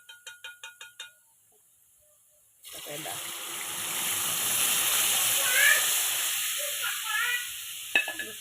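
A few sharp taps, a pause, then boiled drumsticks and their cooking water poured with a sustained gushing splash into a pot of dal that bubbles and sizzles, ending with a clink.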